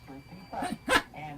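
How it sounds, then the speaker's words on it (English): A dog barks a couple of times in short, sharp bursts, mixed with a voice nearby. "that's a dog barking."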